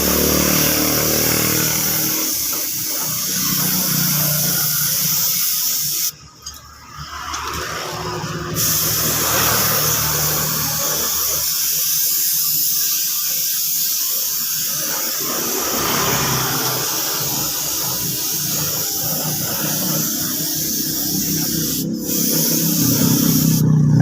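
A spray gun paints a motorcycle in a workshop, giving a loud continuous hissing spray that runs almost the whole time. It breaks off briefly once near the start, with no talking over it.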